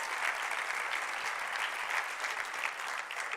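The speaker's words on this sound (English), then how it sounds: "let's give them a round of applause" An audience at a TEDxCSUS 2017 event applauds a collegiate vocal jazz group, a steady, evenly dense sheet of clapping from many people that continues without a break at moderate volume.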